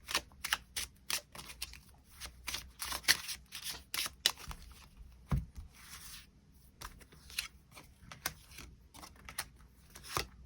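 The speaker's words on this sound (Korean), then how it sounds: "그럼 3번 분들 추가 카드로 월요일부터 일요일까지 일별로 어떤 일들이 있을지 추가 카드 뽑아보도록 하겠습니다." Close-up shuffling of tarot cards, a steady run of crisp riffles, flicks and snaps over about ten seconds, with a single louder thump partway through and no talking.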